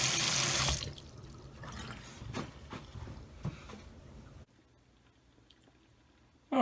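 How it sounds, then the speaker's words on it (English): Water running from a tap into a sink during handwashing at home, loud and steady for the first second, then a softer continuous flow with small splashes and clatters until it cuts off. "Come home and wash my hands"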